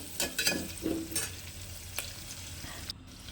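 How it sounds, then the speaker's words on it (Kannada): Onion frying in oil with cinnamon, cloves, marathi moggu and fennel seeds in a pan. Several bursts of close stirring and sizzling come early, then settle into a quieter, softer fry. "1 ಮೀಡಿಯಮ್ ಸೈಜ್ ಆನಿಯನ್ ಹಾಕಿ ಫ್ರೈ ಆದಮೇಲೆ ಅದಕ್ಕೆ 1 ಇಂಚ್ ಚಕ್ಕೆ, ಲವಂಗ, ಮರಾಠಿ ಮೊಗ್ಗು, ಸ್ವಲ್ಪ ಸೋಂಪು ಕಾಳು ಹಾಕಿ"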